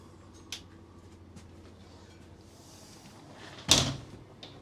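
A Jayco FA25-3 Optimum motorhome door shuts with one loud, close thud near the end, after a fainter knock earlier over quiet background.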